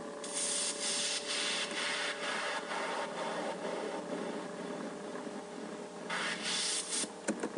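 Synthesizer noise signal with a filter sweeping up and down gives a steady hiss that swells and dulls in slow waves, fairly soft and alone with no voices.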